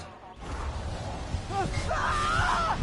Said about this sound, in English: You will be greeted with classic Spider-Man scream